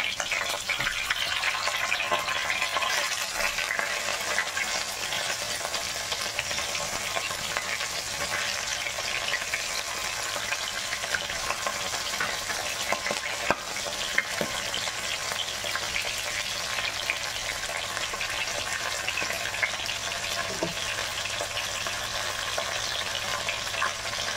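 Pompano fish fries in a pan of hot oil, giving a steady, dense sizzle that continues for the whole stretch with faint clinks and crackles and no talking.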